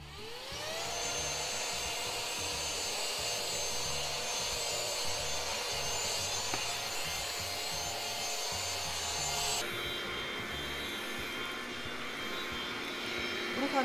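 A Philips FC6729 cordless mopping vacuum cleaner runs steadily and loud with a constant whining motor hum and rubbing brush noise, the tone shifting slightly near the end.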